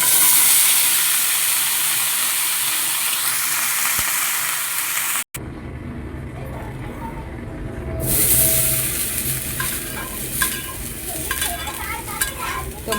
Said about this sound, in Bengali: এর আগে আমি সবজিটা ভেজে নিচ্ছি